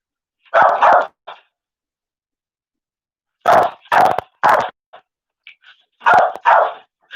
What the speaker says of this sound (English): My dog went crazy.